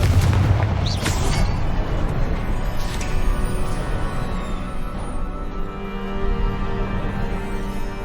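A Confringo fire spell explodes in Hogwarts Legacy: one heavy boom at the start, followed by a long, loud rumbling roar that fades only slightly over several seconds.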